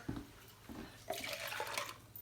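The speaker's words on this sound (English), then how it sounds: "So I'm going to fill my can up" Tap water runs into a can for a meatball recipe, a steady close splashing and trickling stream that continues without pause and with no voices.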